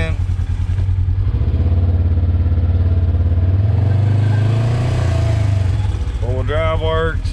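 A Polaris RZR 900 S side-by-side engine drones steadily up close while driving in four-wheel drive, its pitch rising and easing, with someone speaking toward the end.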